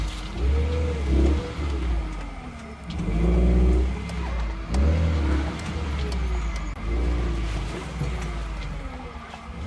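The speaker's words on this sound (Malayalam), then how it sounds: "നമ്മുടെ വണ്ടി നമ്മുടെ സ്വന്തം പറമ്പിൽ കയറ്റിയിരിക്കുകയാണ്" A car is driven onto a rough, uneven plot of land among banana plants, its engine droning and swelling in repeated revs at close range with no talking.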